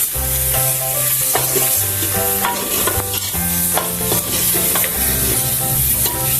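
Chicken pieces coated with turmeric and garam masala fry in a pan for Mughlai dal, with a steady sizzle under repeated stirring strokes throughout.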